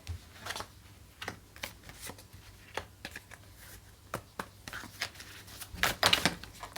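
Tarot cards being shuffled by hand during a reading, a run of soft, quick riffling and flicking bursts at low volume, sparser early and denser near the end, with no talking over it.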